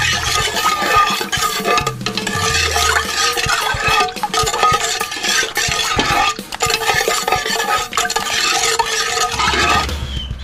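Braised pork belly is stirred in a pot of pineapple-juice braise with seasoning, giving repeated scraping and sloshing strokes in a rough rhythm alongside a bubbling simmer. The stirring is close and fairly loud and stops abruptly near the end.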